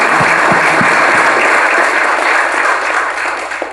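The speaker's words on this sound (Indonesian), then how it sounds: "saya rasa perlu tepuk tangan untuk semua ya" Loud, close audience applause after a Dharma talk, thick continuous clapping with a few low thumps early on, easing slightly toward the end.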